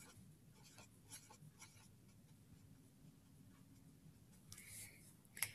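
A pen drawing counters on paper, heard as faint soft scratching strokes in a quiet room, with a brief louder tap near the end.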